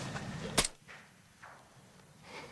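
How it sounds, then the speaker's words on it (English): A single sharp rifle shot cracks out across open countryside at an enemy spotter about 800 meters away, loud and abrupt, then fades into a low wash of ambient noise. "Good shooting, bro."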